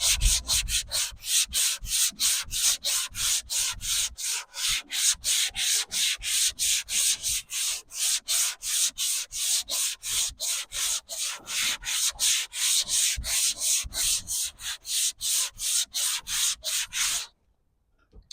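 A long sanding block with 100 grit sandpaper worked over the body of a Mercury Monterey car: fast, rhythmic back-and-forth rasping strokes, loud and close, about two per second, stopping abruptly near the end.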